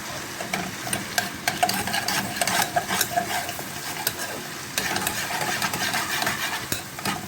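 Onions frying and being stirred in a pan, loud continuous sizzling with repeated scraping and clinking of a utensil against the pan, close and busy with no talk.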